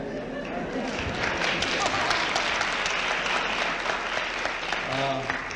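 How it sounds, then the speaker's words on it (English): Audience at a Krishnamurti talk breaking into sustained applause, a dense, steady wash of many hands clapping throughout, with a voice briefly audible near the end. "Why do you clap?"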